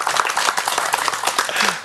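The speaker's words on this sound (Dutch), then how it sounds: "dat is applaus" A crowd claps steadily during a broadcast about the Heuvelland Vierdaagse hill-walking event, with dense, even applause and no voices over it for a couple of seconds.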